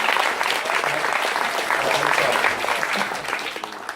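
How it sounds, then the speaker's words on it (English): A crowd at a Bristol mayoral campaign gathering claps steadily and fairly loudly for a few seconds, with faint voices mixed into the applause. "give him a clap"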